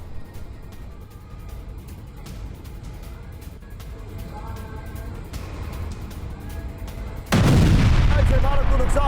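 A Russian missile strike hits a residential area of Kharkiv: a constant rumbling din of distant blasts and traffic-like roar, then a sudden loud, heavy explosion near the end that stays booming and saturated. No speech is heard.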